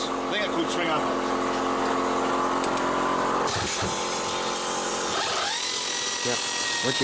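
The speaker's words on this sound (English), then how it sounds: "I'm undoing the lower control arm, swing arm bolts." Lower control arm swing arm bolts being undone with a power tool on a VW Baja build in a home garage, a steady mechanical whirring and rattling that runs through the clip while a person talks.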